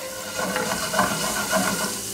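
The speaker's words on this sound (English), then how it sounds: "Just get a little sizzle on them" Soft, steady sizzling of minced garlic frying in hot olive oil in a pan, a gentle crackling hiss close by with no talking.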